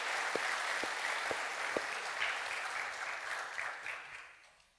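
An audience in a Norwegian meeting hall claps warmly for the organizers, a steady wash of many hands with a few sharper claps up front, fading out at the end.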